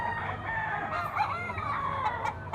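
A young rooster, a stag, crows once, up close and fairly quiet, its raspy call wavering over a couple of seconds.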